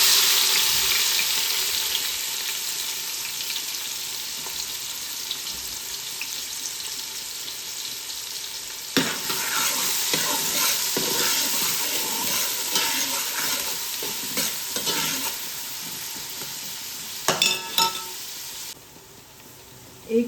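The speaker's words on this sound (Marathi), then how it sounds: "तेल गरम झालेलं आहे. चिमूटभर हिंग आणि 2 मोठे कांदे घेतलेले आहेत बारीक चिरून" Finely chopped onions and a pinch of asafoetida sizzle steadily in hot oil, a loud continuous fry with occasional stirring scrapes and clatter, alone without talk.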